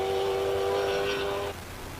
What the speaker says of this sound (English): let's just enjoy the symphony of a Ferrari V8